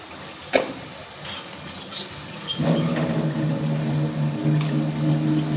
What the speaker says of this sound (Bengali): একটু পরিমাণ মতন কষানো পানি দিয়ে দেবো।